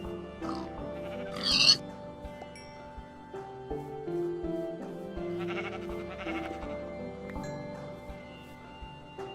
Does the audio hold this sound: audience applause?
no